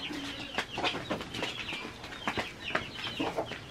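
Several chickens clucking and squawking nearby in an irregular, busy chatter with no speech.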